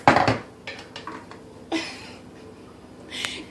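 Spoon scraping and tapping mashed sweet potato into a freezer tray for homemade baby food, a few close clinks and scrapes separated by short pauses.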